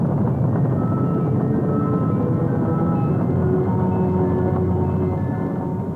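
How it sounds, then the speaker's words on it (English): Rocket engines roaring at the 1973 Skylab liftoff: a continuous, dense, loud rumble holds steady without a break, heard alone with no voices. "All engines running. We have a liftoff."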